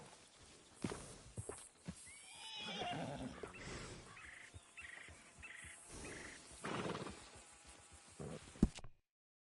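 Horse neighing and whinnying in the Red Dead video game, with clip-clopping hooves and footsteps scattered throughout, a loud whinny near the middle and a sharp thud near the end before it cuts to silence.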